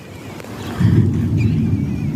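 Steady gusting wind before a summer rain, with the first drops starting to fall and faint thunder off to the east, rising into a loud, continuous low rush that blows against the microphone.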